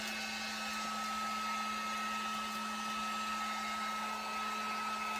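A heat gun blowing hot air in a steady, even whoosh with a faint constant whine, running alone without pause.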